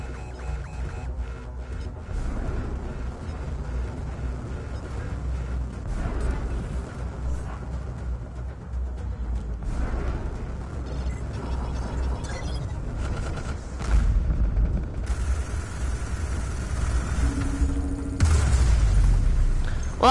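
Missile explosions in the space combat game Eve Valkyrie, heard as a steady roar of deep booms and rumbling blasts that swells louder near the end, with no talking.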